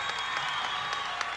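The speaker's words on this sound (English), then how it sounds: "Much to the delight of the Newark crowd." A home basketball crowd at a high school game between Lancaster and Newark applauds and cheers a steal, a continuous fairly distant clatter of clapping with scattered sharper claps throughout.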